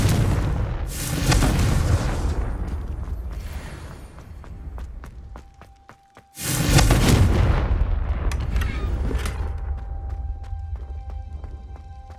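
Confringo blasting spells in the video game Hogwarts Legacy going off as two loud, booming explosions, each with a long rumbling decay, separated by a brief near-silent gap.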